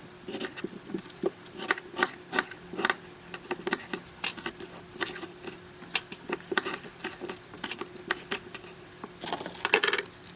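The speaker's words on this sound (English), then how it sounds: "I like to just take the leaf head off first and just start dicing these strawberries up." Strawberries are diced with a knife on a cutting board, giving rapid, irregular sharp taps and crisp cuts close by, alone without talk.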